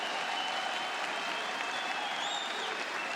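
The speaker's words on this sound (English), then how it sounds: "NiP still in this, and Get Right now getting the crowd on their feet." Esports crowd at a CS:GO quarterfinal match on Dust2 cheering and applauding steadily, a dense, continuous wash of clapping and roaring voices that holds at an even level throughout with no break.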